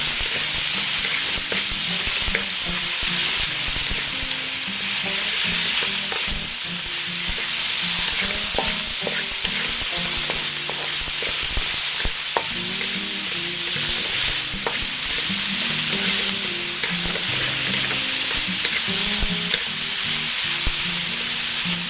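Tomatoes sautéing with ginger in a pan for beef tendon sinigang, a continuous loud hissing sizzle with frequent scraping and clinking of a spatula stirring, close and unbroken for the whole stretch.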